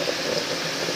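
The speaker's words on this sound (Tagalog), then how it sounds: "Kumukulo na rin siya." A pot of rice boils on the stove, a steady close bubbling hiss that fills the whole second with no talking.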